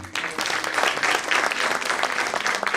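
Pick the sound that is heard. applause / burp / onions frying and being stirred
applause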